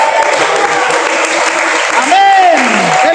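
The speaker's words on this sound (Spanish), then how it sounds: "Ese aplauso a la presencia del Señor" Church congregation applauding during a Pentecostal sermon, a loud sustained wash of clapping with a voice calling out over it near the end.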